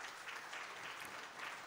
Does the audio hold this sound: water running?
no